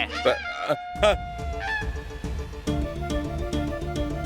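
A chicken squawks loudly in a few short, harsh bursts close by, followed by fluttering commotion and background noise.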